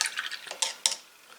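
Water dabbed and dripped with a brush while painting a miniature, brief close watery clicks and light drips, three or four small bursts in quick succession.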